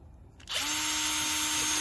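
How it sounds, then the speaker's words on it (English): A power drill starts up abruptly and drills through a bamboo root, running steadily with a high, even whine, close and loud, with no talking. "I'm going to drill a hole"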